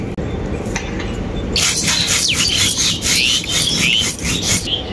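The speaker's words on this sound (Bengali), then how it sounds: "এরপর আমি বেটে নেব গোটা জিরে" Whole cumin is ground on a grinding stone, with a faint rubbing at first and then a burst of repeated scraping strokes in an uneven rhythm, close and fairly loud.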